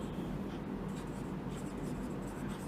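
Chalk or marker writes on a board in a commerce classroom, giving soft, continuous scratchy strokes over a low room hum with no speech.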